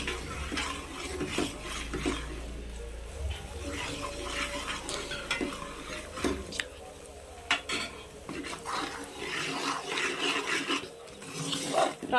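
A spoon stirring Mysore pak mixture in a pan, with oil poured in, giving repeated scraping and clattering strokes over a soft sizzle, close and steady, with brief faint voice in the background.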